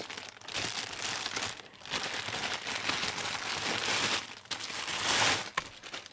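Plastic wrapping is handled on a Gigabyte H60 SE liquid CPU cooler after it comes out of the box, giving a steady close crinkling and rustling with a few brief pauses and no talk.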